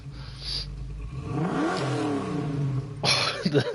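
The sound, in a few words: drift car engine revving in video game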